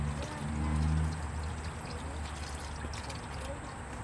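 Hot engine oil draining from a Kia Soul into a pan, a steady close pouring trickle that continues throughout, with someone speaking over it.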